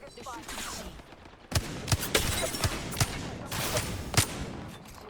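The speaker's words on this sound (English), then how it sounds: "Okay, they're shooting at me." Gunfire in the video game Apex Legends, several sharp loud bursts of shots in quick succession with rapid cracks clustered in the second half, over a background of game noise.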